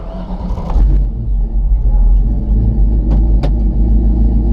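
A Toyota Land Cruiser FJ40 resto-mod with a V8 engine idles with a loud, deep, steady rumble, close by, with a couple of brief knocks over it.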